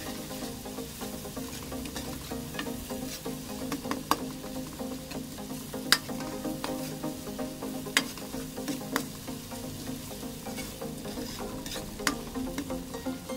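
Onions sizzle in ghee in a pan for an arvi and chicken curry, a continuous low frying hiss with scattered clicks and taps of stirring, close and steady with no voices.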